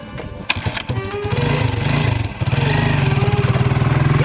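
A motorcycle engine starts up and settles into a loud, rapid, pulsing idle close by, its throbbing beat growing steadier over a few seconds.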